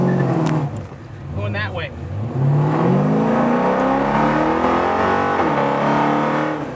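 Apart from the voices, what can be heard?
car doing a burnout, engine revving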